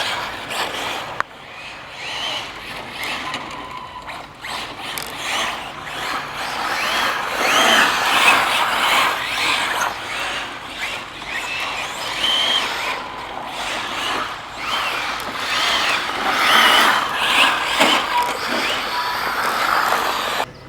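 Arrma Felony and ZD Racing EX-07 RC drift cars run a figure-eight course, their electric motors whirring and rising and falling in uneven bursts, with tire scrubbing and rattling over about twenty seconds.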